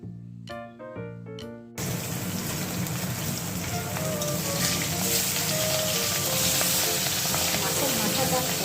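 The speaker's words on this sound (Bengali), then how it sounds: "মাছের মাথাগুলো ভেজে নিচ্ছি।" Fish heads fry loudly in hot oil, a dense steady sizzle that bursts in after a brief musical lead-in and carries on unbroken to the end.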